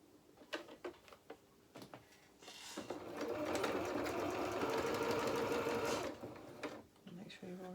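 A sewing machine stitching a felt doll coat runs in a steady whirring burst of several seconds after a few short starts and clicks, with someone talking quietly around it.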